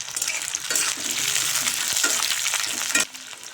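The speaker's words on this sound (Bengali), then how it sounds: "তেল গরম হয়েছে, এখন দিয়ে দেব পেঁয়াজ কুচি।" Chopped onion dropped into hot oil for a dhaba-style chicken masala crackles and sizzles loudly and steadily with stirring clatter, then drops sharply to a quieter hiss near the end.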